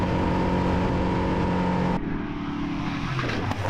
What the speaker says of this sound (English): this is the new motor for the Juggernaut